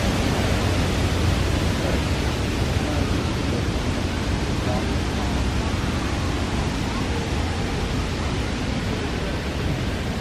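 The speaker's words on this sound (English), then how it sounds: "A lot of waterfalls in this memorial." Waterfalls at the Franklin Delano Roosevelt Memorial in Washington, DC make a constant broadband rushing roar that fills the whole stretch, with faint voices beneath it.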